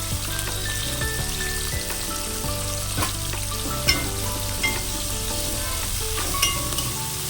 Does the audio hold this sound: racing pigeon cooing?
no